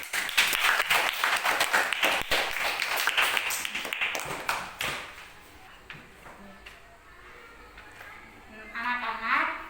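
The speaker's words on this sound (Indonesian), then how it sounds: "kita tepuk tangan dulu" Children in a classroom clap their hands together, a dense burst of sharp claps that fills the first few seconds and then fades, leaving quieter room noise with some voices.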